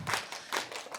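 Guests clap for the hosts at a Kazakh wedding celebration in Kostanay, a short, close burst of hand claps lasting about a second in uneven pulses, with no talking over it.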